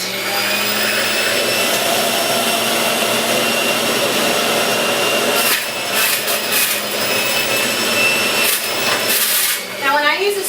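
Close, loud whine of an electric juicer motor grinding produce, steady at first, then shifting with bursts of rough crunching as pieces are pushed through, and a faint voice near the end.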